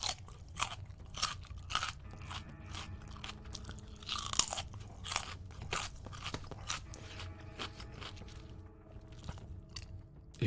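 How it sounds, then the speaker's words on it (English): A raw carrot is bitten and chewed close to the mic, giving a run of sharp, crisp crunches in an irregular rhythm with softer mashing between bites, and no talking. "Carrot ASMR."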